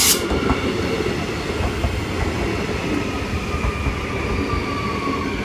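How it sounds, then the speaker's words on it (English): Queensland Rail IMU suburban electric train arriving at Wooloowin station platform in Brisbane, a loud, close, steady rumble of wheels on rails with faint squeal and clatter throughout. "The Brisbane City Roma Street train arriving on platform 3."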